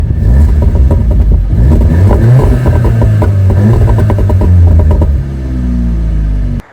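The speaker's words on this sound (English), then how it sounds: "APR has a pops and bangs option for Stage 2 tunes" An Audi S3 with an APR Stage 2 tune and stock exhaust revs loudly up close, the engine note climbing and falling with crackling pops and bangs on the overrun before cutting off.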